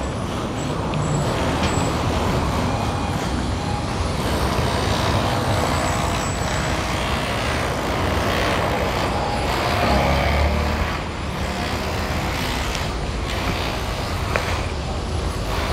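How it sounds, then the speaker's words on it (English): Heavy road traffic on a busy main road in Accra, Ghana, with trucks, buses and cars passing in a steady, dense roar that holds at a constant loudness and carries no speech. "the traffic on the main road is crazy, yeah?"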